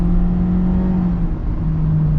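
A 2023 Honda CR-V with a turbocharged engine accelerates on a road at high elevation in Utah, giving a steady, loud, close engine drone with a sustained low hum throughout and no talk.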